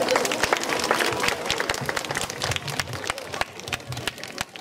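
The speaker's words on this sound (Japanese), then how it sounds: "皆さんに盛大な拍手をお願いします" A crowd at a 2014 international exchange festival applauds a dance class. The clapping is steady, dense and crackling throughout, with voices talking underneath.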